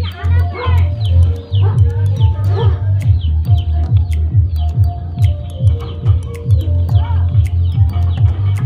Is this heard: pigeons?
yes